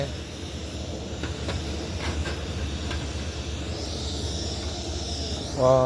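Fish pieces coated with turmeric frying in hot oil, a continuous crackling sizzle with occasional sharp pops, ending in a brief louder burst.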